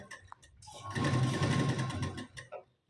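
A sewing machine stitches a blouse in a short, close whirring burst of about a second and a half, framed by quiet handling noises.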